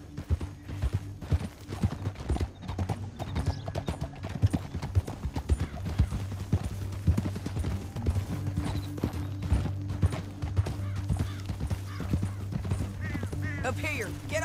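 Horse hooves clip-clop in a fast, steady rhythm in Red Dead Redemption 2, close and continuous, with a brief whinny and voices talking over the galloping.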